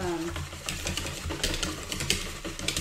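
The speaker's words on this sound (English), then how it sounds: "we're just going to whisk that for our scrambled eggs" Eggs for scrambled eggs are whisked in a bowl, giving a quick, rapid clatter of the whisk that runs steadily throughout the short burst, with a voice talking over the top.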